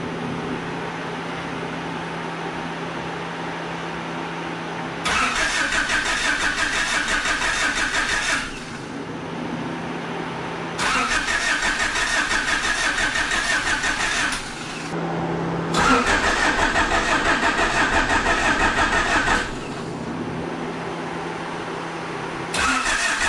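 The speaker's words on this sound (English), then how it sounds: "we were just cranking the motor to accessory mode? get the oil going" A Honda H23A VTEC engine being swapped into a CB7 cranks over without firing, with three repeated bursts of loud rhythmic starter whirring several seconds long separated by quieter pauses.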